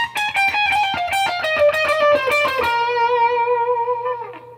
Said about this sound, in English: So the next section of the solo from that bend is going to be the fast section.